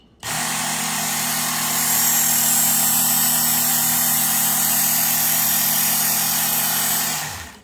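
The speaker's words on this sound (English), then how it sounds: "just let the weight of the blade go into the sanding belt" A steady, loud electric grinding whir with a low motor hum from a Work Sharp MK2 electric knife sharpener's sanding belt against a blade runs unbroken for several seconds, then winds down at the end.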